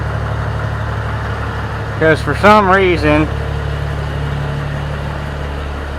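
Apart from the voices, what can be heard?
tractor engine idling with muffler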